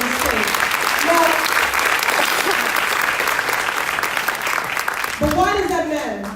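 Sustained loud applause from a town hall audience fills the room, dense clapping continuing throughout while a voice rises briefly near the end.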